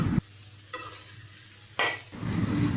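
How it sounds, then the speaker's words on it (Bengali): Potato and carp roe being stirred in a pan over low heat, with soft scraping strokes and a gentle sizzle of frying, close and alone with no talk. "ভালোভাবে নাড়াচাড়া করে নেব যাতে আলু আর ডিম একসাথে মিশে যায়। অল্প আঁচে নাড়াচাড়া করতে হবে।"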